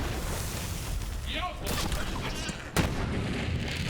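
Irradiation-damage rocket launcher fired in Borderlands 3, with a sharp blast near the end over a constant background of game noise and combat rumble.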